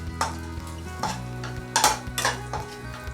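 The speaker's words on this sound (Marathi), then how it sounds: "हे आपल्याला तुपात मस्त असे फ्राय करून घ्यायचे आहेत" Edible gum pieces fry in hot ghee for laddoos, a soft continuous sizzle with several sharp spoon-and-pan scraping clinks as the pieces are stirred.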